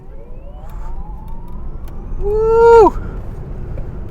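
A Lucid Air electric car launching in launch control, its motor whine climbing steadily in pitch over a few seconds before cutting off sharply, with a voice exclaiming over it.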